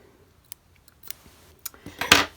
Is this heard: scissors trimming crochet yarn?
yes